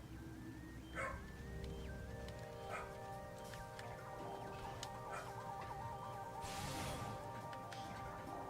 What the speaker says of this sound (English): that's either my landlord's dog